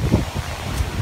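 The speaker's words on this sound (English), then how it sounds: "That was a good gust." Hurricane Irma wind in 2017 buffets the microphone in a short, rough gust, a dense low rushing roar with no voices over it.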